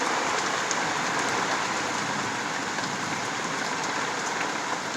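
Downpour hammering the ground and roof around a small survivor shack, a thick steady wash of rain close by, constant in level for several seconds, with nobody speaking.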